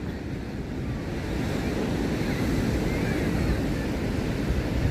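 Waves break on a white sand beach at Wilson's Promontory, Australia, a broad steady roar of surf mixed with wind buffeting the microphone, continuous and fairly loud.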